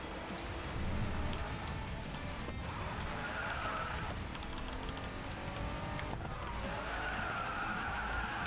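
Bugatti Chiron sliding across sand in the Racing Master mobile game, a continuous loud engine roar with scraping skid and tire noise running throughout, rising pitch sweeps as the car slides.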